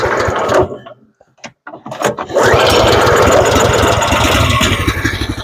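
The small engine of a Mokai motorized kayak starts and settles into an idle with the clutch disengaged. A brief sputter and a quiet gap give way to a loud, steady close-up buzzing drone, and a voice can be heard faintly.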